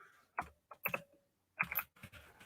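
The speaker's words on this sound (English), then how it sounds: "So when you hear the clickety clacking of my keyboard, that's what it is." Bursts of typing on a mechanical keyboard, several quick clattering runs of keystrokes separated by short pauses, close and fairly quiet with no voices.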